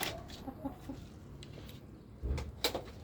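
A few short clucks from Rhode Island Red (Red Mahogany) roosters, fairly quiet, with some other birds chirping faintly in the background.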